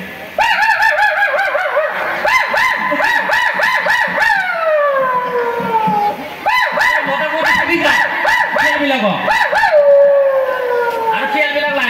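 At a Rongali Bihu comedy show, a performer's voice imitates dogs and jackals. Loud, close yelps alternate with long, gliding howls in quick succession, each call bending up and then trailing down.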